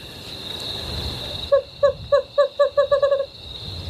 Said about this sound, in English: This is Western screech owl.